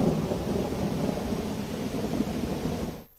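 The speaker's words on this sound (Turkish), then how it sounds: "Yağmurla birlikte çakan şimşekler gökyüzünü aydınlattı." Thunder rolls through a heavy rainstorm, a deep sustained rumble layered with dense, steady rain noise that holds at one level for about three seconds, then cuts off abruptly.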